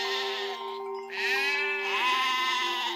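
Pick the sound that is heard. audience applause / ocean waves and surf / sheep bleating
sheep bleating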